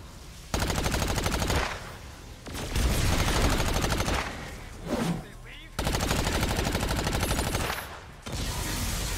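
Gunfire and explosions from the Agents of Mayhem video game fight with dense loud bursts of shooting in several long stretches, broken by short lulls, with some speech mixed in.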